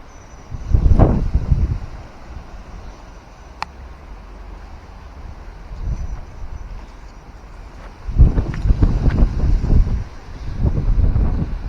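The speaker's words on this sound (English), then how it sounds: "It's the wind." Wind gusts in a garden of infected peach, apricot and nectarine trees, buffeting the microphone in strong bursts separated by quieter stretches.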